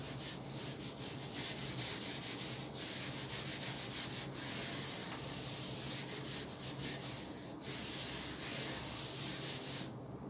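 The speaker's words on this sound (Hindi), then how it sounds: "आप वीडियो को पॉज दे दीजिए ताकि मैं इसे रब कर सकूँ।" Steady rubbing of a board being wiped clean during a class 12 maths lesson, continuous scratchy friction strokes filling the whole stretch with no talk.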